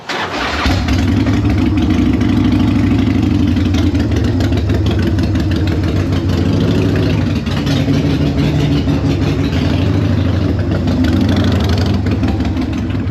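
A 1996 Harley-Davidson Evo Fat Boy (FLSTF) motorcycle engine idles loudly and close by, a deep steady rumble with a loping beat that holds throughout.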